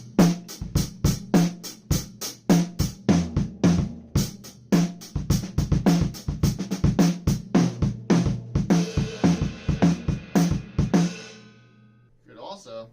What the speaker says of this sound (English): Mash it up with a rock groove, could sound like this.